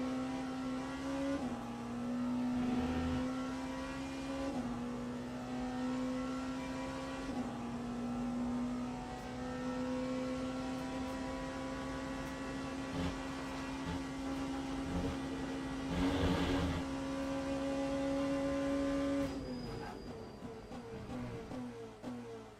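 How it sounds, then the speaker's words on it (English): A Porsche race car in Le Mans Ultimate is pushed hard around Spa, its engine note rising and dropping through gear changes with sharp shifts and a brief burst of louder roar before easing off. "Trying out the Porsche, pushing it really hard."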